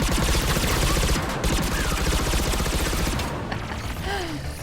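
Rapid, continuous fire from a gun in Mass Effect 3, dense and loud, mixed with mechanical clatter and busy battle noise throughout.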